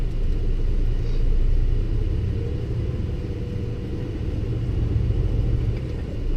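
A truck with a 13-speed transmission pulls out of a mill parking lot in low gear. The engine gives a loud, steady low rumble heard from inside the cab.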